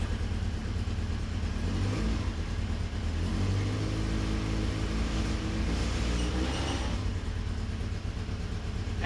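A Yamaha Fazer 1000cc engine fitted in a dune buggy revs up loudly and close, rising and falling in pitch over a steady running drone after a water pump repair, with no talking.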